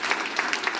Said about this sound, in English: Let's have a round of applause, please, for our panelists who came all the way out here.